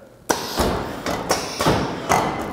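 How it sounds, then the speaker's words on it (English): A Grizzly G0774 automatic edgebander's end trimmer cuts the end of a board, giving a series of sharp, close thuds and knocks at a steady, slightly uneven pace over a low machine background. "the end trimmer then goes ahead and makes the cut on the end of the board"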